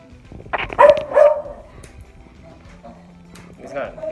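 A very picky dog barks while dinner is being made, with a few sharp barks early on and another near the end. People talk around the barking.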